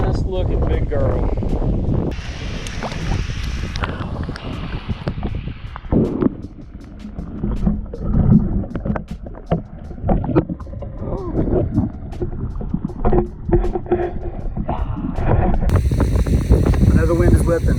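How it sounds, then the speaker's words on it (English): Wind gusts roar and buffet the microphone outdoors at a pond while bass fishing, a steady rushing noise with harsh bursts, under a person speaking. "The wind is whipping."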